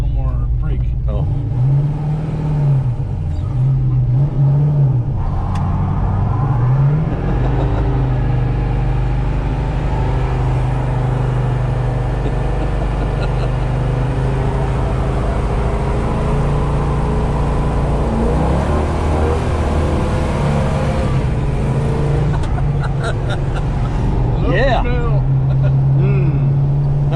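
A 1972 Pontiac GTO with a 400 engine and 4-speed manual roars steadily throughout, revving up and down as it accelerates hard, loud and close, with a low rumbling growl underneath.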